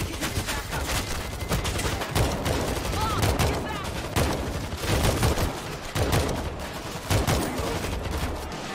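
Auto turrets in World War Z firing in a dense, continuous rattle of rapid gunshots, loud and close, with voices talking over the din.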